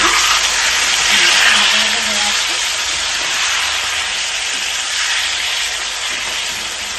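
Runner beans sizzling in a frying pan, a loud, steady broadband hiss that holds evenly throughout, close up and with no talking.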